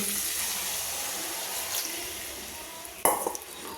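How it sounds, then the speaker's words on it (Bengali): Water poured into spice paste of chili, turmeric and cumin frying in a pan, a steady close sizzle and rush with a sharper splash near the end. "এবার সামান্য পরিমাণ জল দিয়ে নেব"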